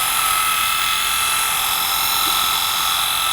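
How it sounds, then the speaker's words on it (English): A Rupes E10 polisher with a polishing pad works along the edges of a car's paintwork, giving a continuous high-pitched motor whine that stays steady and loud from start to finish. "I'm using a polish with a polishing pad"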